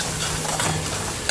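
Onions frying in the same pan just used for eggs, a continuous close sizzle with a faint steady hum beneath and a brief scrape or stir near the end, no voices.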